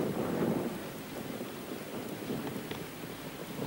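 Steady rain with a low rumble of thunder, a broad continuous wash of downpour heard alone at even loudness, the rumble strongest near the start.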